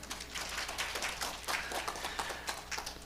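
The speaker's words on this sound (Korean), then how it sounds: "박수 한번 더 치시죠." A conference room of people applauds with steady, dense clapping that stays even for a few seconds.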